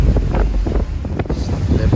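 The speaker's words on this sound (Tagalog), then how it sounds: "Sobrang lakas na ng hangin." Strong wind roars steadily at sea at night, with a loud, constant rushing and buffeting across the whole stretch and no pauses.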